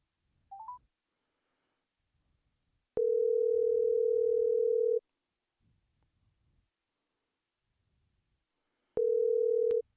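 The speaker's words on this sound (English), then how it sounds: "You got the whole experience with the phone ringing." Ringing tone on a telephone call: a couple of quick dial beeps, then two long, steady electronic rings separated by a pause of several seconds, clear and alone with no talk.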